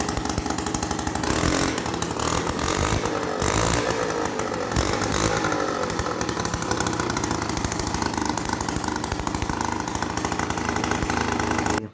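A Peugeot 103 moped with a rebuilt engine fires up and runs, its small two-stroke buzzing loud and close with a rough, rapid, continuous rattle that rises and falls slightly over about twelve seconds.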